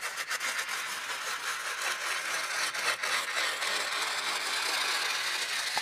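Paper being torn, turned into a continuous texture: a dense, steady scraping rasp with no breaks, bright and fairly loud throughout, with no voices.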